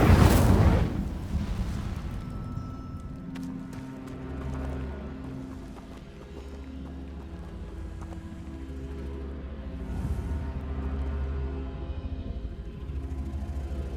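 An Incendio fire spell cast in Hogwarts Legacy, opening with a loud whooshing burst that settles into a low rumbling roar with crackling fire and ambient game sound for the rest.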